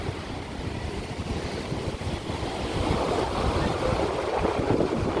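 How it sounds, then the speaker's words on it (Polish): Fairly high ocean waves surging onto a public beach, a continuous broadband wash of surf with wind noise that swells louder in the second half, with no voices. "I dość wysokie fale."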